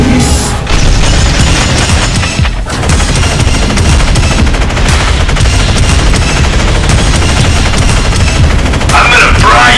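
Relentless, loud bursts of heavy mech cannon fire and booming blasts in a Garry's Mod game rattle continuously, a dense barrage of rapid shots with almost no pause.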